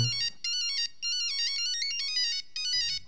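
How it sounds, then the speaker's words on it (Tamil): Mobile phone ringtone plays a bright, repeating electronic melody in short phrases separated by brief gaps, clear and moderately close, with a faint voice at the start and end. "பார்ட்னர், ஃபோன் அடிக்குது, எடுங்க."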